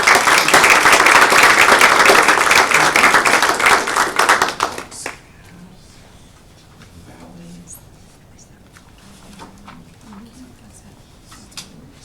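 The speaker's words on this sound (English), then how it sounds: "Let's give these guys a round of applause." Loud, dense audience applause at a school board meeting lasts about five seconds, then stops abruptly, leaving quiet room noise with faint murmuring and scattered taps.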